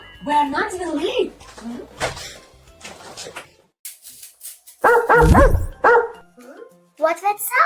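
A cartoon dog barks several times in short bursts, loud and close, mixed with animated character voices talking and exclaiming around it.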